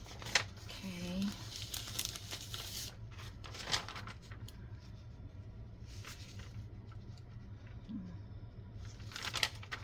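Sheet of paper folded by hand while making vintage-style ephemera, soft crinkling and crisp rustles in short bursts near the microphone, quiet, with faint talking and a low hum behind.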